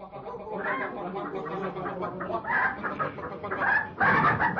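Chickens cluck and squawk close by in an audiobook sound effect, a busy flurry of overlapping calls that grows louder toward the end.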